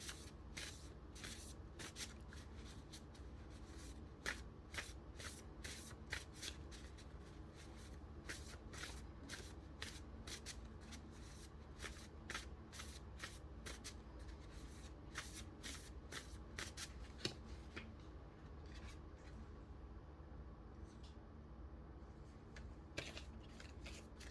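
A card deck is shuffled steadily for over twenty seconds, giving dense, rapid riffling clicks over a low constant background hum, with no voice.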